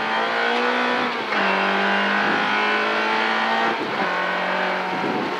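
A rally car launches hard from the start of the first special stage, its engine howling up through several gears with brief dips at each shift, loud and close from inside the car.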